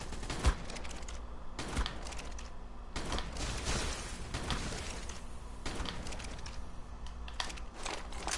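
Gunfire in the video game Ark, aimed at a flying Allosaurus boss on the Valguero map, comes as rapid repeated bursts of shots with short gaps. It stays fairly faint and steady throughout, with no talking.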